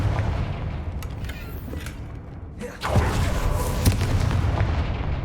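A Confringo blast spell explodes in Hogwarts Legacy, a deep booming burst that hits partway through amid rumbling, creaking game ambience, followed by a sustained roar and debris-like crackle.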